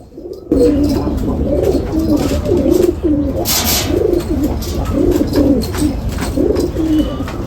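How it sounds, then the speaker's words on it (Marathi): Several pigeons coo continuously, their low throaty calls overlapping close by, with a brief rustle partway through. "आता सशी भाऊचे आता हे टेडी कबूतर"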